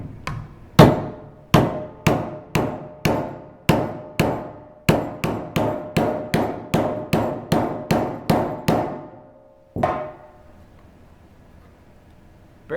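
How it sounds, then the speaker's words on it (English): A ball peen hammer strikes an auxbeam light bar lens about twenty times in a steady, sharp rhythm, each close, loud clanging hit ringing briefly, then a pause and one final blow followed by a faint residual ring. "we'll start with the ball peen hammer"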